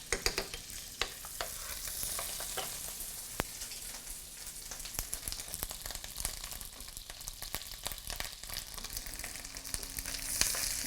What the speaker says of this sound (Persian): رب یه کمی من سرخش میکنم با این کره.